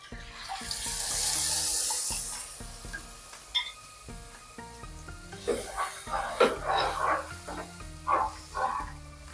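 Water poured into a fish curry masala of roasted chili, coriander and mango for a tuna curry, a gushing pour followed by splashing and bubbling, close, with soft background music throughout.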